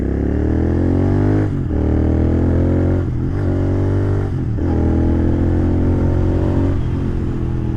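A Royal Enfield Continental GT 650 motorcycle engine pulls hard and loud, revving up through several rising sweeps with brief dips between them, close and continuous with no talk.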